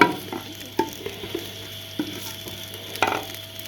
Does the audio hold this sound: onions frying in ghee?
yes